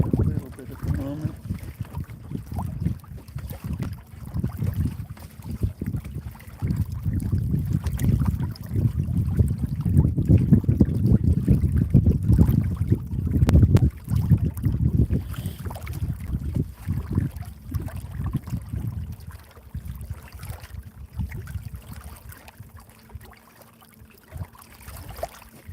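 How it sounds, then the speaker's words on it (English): Wind buffets a small fishing boat out on open water, a steady low rumble with gusty surges and a faint trickle of water against the hull, loudest mid-stretch before easing off toward the end. "Really hope this wind goes away."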